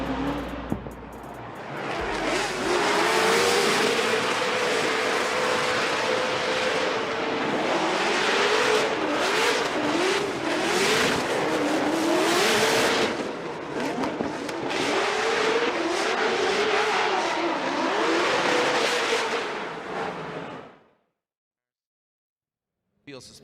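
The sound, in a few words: drift race cars revving, Nissan S15 with supercharged LS, BMW E36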